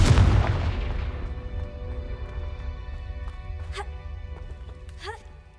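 A Confringo fire spell from Hogwarts Legacy bursts with a loud close boom at the start and then trails off into a fading rumble, followed by a couple of short chirping magical effects.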